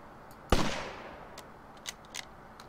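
A single sharp rifle shot in The Long Dark, fired to kill an animal, cracking loudly and then ringing out in a decaying tail, with a few faint clicks afterward.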